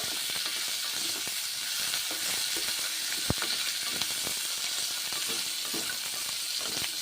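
Chopped tomatoes fry in a pan for a Bengali bori, onion and poppy seed dish, giving a steady close hiss and sizzle with scattered soft scrapes and one sharp knock as they are stirred.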